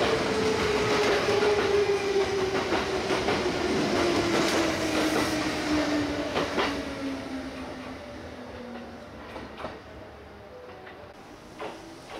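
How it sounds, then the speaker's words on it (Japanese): Kintetsu express train passing through Tsuruhashi station, a loud rumbling roar with clickety-clack wheel beats and a long descending squeal, slowly fading as it moves away. "6622列車、大阪上本町駅急行です。"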